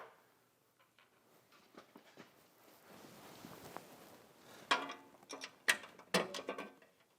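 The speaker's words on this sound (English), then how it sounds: "Now we'll take our button head screw and an Allen wrench." An Allen wrench turning a button head screw while installing a grit guard on a MAG-8100 lawn mower blade sharpener: quiet clicking and ratcheting that builds into sharper, louder metallic clicks near the end.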